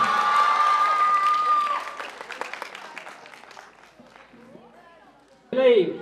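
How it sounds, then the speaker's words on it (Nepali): Audience applause at a school singing competition, a dense burst of clapping that fades over several seconds before a brief loud sound at the end. "ताली अलिक जोडले बजाइदिनु हुन अनुरोध गर्दछु।"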